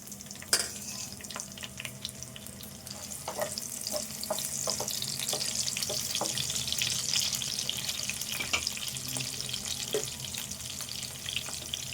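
A medium-sized washed onion drops into hot oil in a pan while cooking a broad bean and egg curry, setting off a steady sizzle with scattered stirring clicks and taps, moderately close and without talk.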